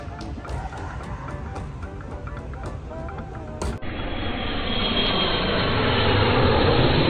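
Steady, loud broadband roar of an airplane engine at Dubai Airport, a cut partway through giving way to a denser, rising rumble that holds to the end, with no talk over it.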